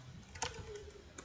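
Computer keyboard typing while a switch configuration command is entered, with a few sparse keystrokes over a steady faint hum.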